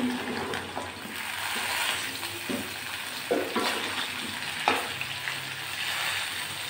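Cut pointed gourds frying with spices in a pan, a soft hissing sizzle with a few sharper scrapes and clatters from stirring, close but fairly quiet.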